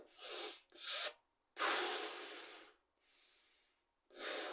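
A person at a gym taking big, forceful breaths before lifting, such as on a leg press machine: several sharp, hissing inhales and exhales in uneven bursts, close and clear with short silences between.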